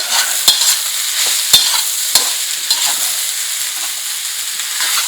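Potatoes frying in a pan for samosa filling are stirred with a spoon, giving a steady bright sizzle with a few sharp scrapes and knocks, close and fairly loud, without talk.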